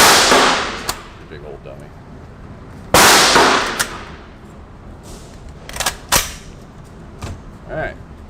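A CZ Bren 2 rifle in 5.56mm fired with a silencer at an outdoor range: two loud, sharp suppressed shots a few seconds apart, followed by softer metallic clacks, with someone talking in between.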